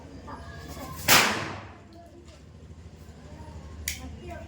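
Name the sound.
small firecrackers bursting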